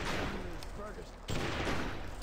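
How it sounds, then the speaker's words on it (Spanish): Gunfire in a video game during a wolf-hunting fight, a dense burst of rapid shots, a short pause, then another loud burst, with no one talking over it. "Los disparos son un poco raros"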